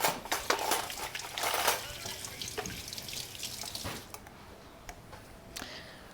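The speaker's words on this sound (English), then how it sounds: "I'm going to wash my hands." Water from a tap splashes into a sink during handwashing, starting strong and close, then thinning into lighter trickles and drips toward the end.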